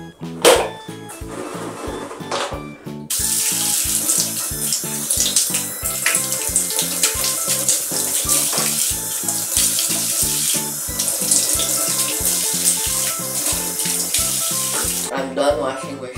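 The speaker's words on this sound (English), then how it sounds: "Rinse with water." Tap water runs steadily while shoes are rinsed under it, a continuous splashing flow with rhythmic scrubbing or handling knocks throughout, close and fairly loud.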